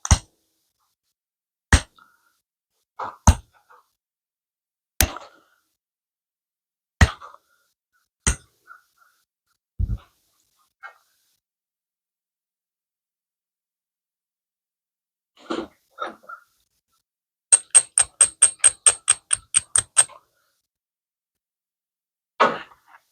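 Flint arrowhead in the Hoxie style being beveled by flintknapping: sharp isolated clicks and taps spaced a second or two apart, then a quick run of about ten rapid ticks near the end, close and dry in a quiet room.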